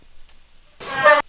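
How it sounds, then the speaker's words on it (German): A train horn sounds in the Zug Simulator 2013 train video game, a single short, rising toot of about half a second after a quiet pause. "ich weiß, dass du hupen kannst"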